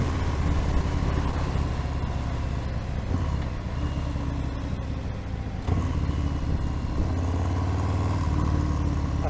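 A Harley-Davidson Fat Bob 114 motorcycle engine rumbles steadily at cruising pace on an early-year ride, a deep, even throb with slight swells in load and constant wind noise, no voices.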